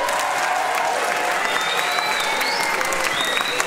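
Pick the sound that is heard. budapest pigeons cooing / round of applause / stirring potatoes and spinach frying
round of applause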